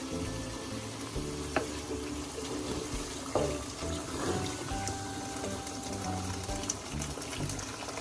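Boiled water poured from a kettle into a pot of meat for daleem, a steady close splashing and gurgling stream with faint clinks of the pot, no talking.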